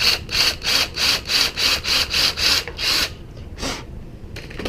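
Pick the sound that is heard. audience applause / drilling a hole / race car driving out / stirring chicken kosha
drilling a hole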